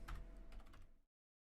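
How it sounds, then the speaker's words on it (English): Quick keystrokes on a computer keyboard, a short close burst of typing that stops abruptly into silence. "I'm typing"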